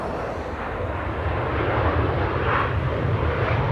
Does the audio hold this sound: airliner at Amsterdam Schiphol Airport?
yes